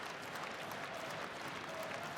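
A live crowd at an MLP Northern Rising wrestling match between Miyu Yamashita and Serena Deeb claps and cheers in a steady, dense roar of applause.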